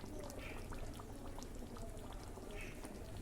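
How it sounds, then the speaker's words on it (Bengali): Raw oil poured over hilsa fish frying in a pan, a soft continuous pouring and sizzling that stays steady and fairly quiet throughout. "দিয়ে দিলাম আরও খানিকটা কাঁচা তেল"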